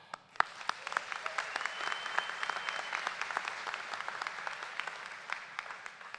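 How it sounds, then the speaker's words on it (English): At a graduation ceremony, an audience applauds steadily, a dense patter of clapping heard from a moderate distance for several seconds without talking. "Let me first start out by sharing a round of applause"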